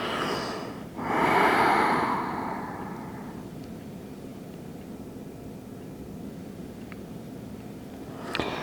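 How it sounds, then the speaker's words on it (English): One deep, audible breath during yoga practice rises and fades over a couple of seconds, followed by quiet room tone with faint distant rumble. "Really feeling those inhale and exhales move through the entire body."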